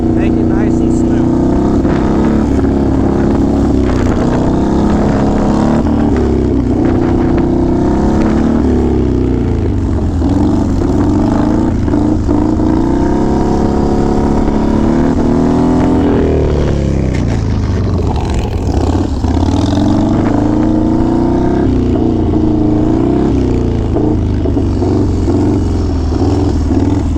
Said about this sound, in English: So right now, pulling in the clutch, rev it up, all in one motion.